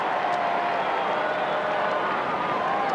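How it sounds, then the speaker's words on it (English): Steady crowd roar at a 1998 Australian rules football match between North Melbourne and West Coast, a broad, even cheer that holds for the whole clip. "So the crowd cheers that"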